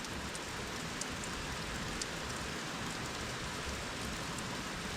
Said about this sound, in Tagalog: naririnig natin yung pagpatak ng ulan, tapos konting pagaspas ng hangin